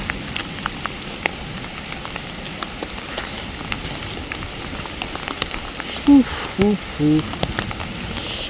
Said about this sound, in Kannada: ಮಳೆ ಬಂತು ಅಣ್ಣ,